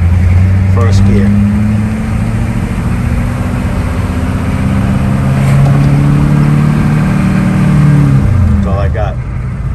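A CUCV M1028 truck with a TH400 transmission stuck in first gear accelerates steadily, its engine droning loud and close throughout with rising and falling pitch, while a voice speaks over it.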